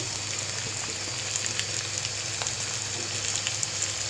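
Cumin powder, red chili powder and salt frying with tomato in a pan for egg dum biryani, a moderate steady sizzle flecked with small pops and light stirring.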